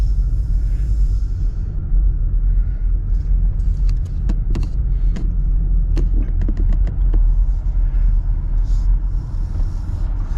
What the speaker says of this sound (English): just make sure there's no freaking big trucks hurtling along again